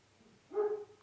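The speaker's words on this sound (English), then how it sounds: "Sorry, my dog's barking right now." A dog indoors gives a single short, fairly faint bark, with the room quiet around it.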